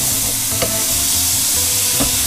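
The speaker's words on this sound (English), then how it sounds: "let it steam off of there and get a nice sizzle going, and you'll get a good sear on your meat" Venison or beef sears loudly in a hot pan, a dense continuous sizzle broken by a couple of scraping stirs, close up and without talk.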